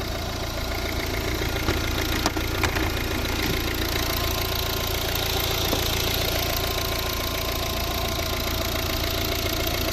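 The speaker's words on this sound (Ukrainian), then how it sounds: "Ось робота двигуна" A 2014 Volvo V60 1.6 D2 diesel engine idles steadily up close, a constant low rumble with a rhythmic clatter and a couple of faint clicks.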